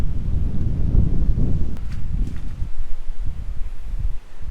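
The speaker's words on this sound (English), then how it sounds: "Woo, she's windy today." Wind on a remote island buffets the microphone in strong low gusts, a continuous rough rumble with shifting intensity throughout, no voices.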